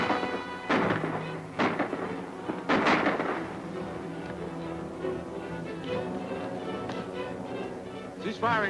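Gunfire and heavy thuds from an old black-and-white serial battle scene: a few loud bursts early on, then lighter scattered shots over a droning musical score, with a voice calling out under the noise.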